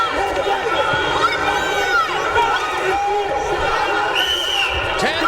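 Arena crowd at an MMA bout between Kenny Garner and Maxim Grishin roars and shouts continuously throughout, a dense wall of voices with a commentator talking over it.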